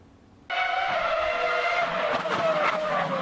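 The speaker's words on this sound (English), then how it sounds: "rev up your engines and get out onto the circuit" Formula 1 race cars rev their engines out on the circuit, bursting in with a loud, sustained high-pitched whine that climbs and wavers, joined by a few sharper passing roars near the end.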